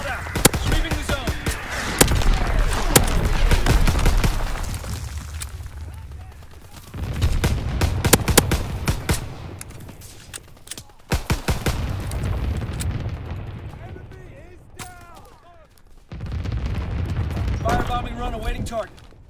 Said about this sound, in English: Mortar shot out. Sweeping the zone.